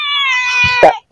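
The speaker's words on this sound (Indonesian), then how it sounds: "Ih, kucing gendut banget, aku megang kucing gendut ah." A fat cat being held in the Bogor botanical garden gives a long, loud, drawn-out meow that ends in a brief scuffling bump before cutting off.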